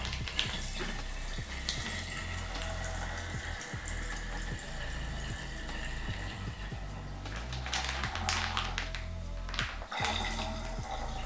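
White agricultural rum pours into a jar of Christmas pine needles for homemade rhum arrangé, a steady close liquid gurgle and splash running throughout with small fluctuations.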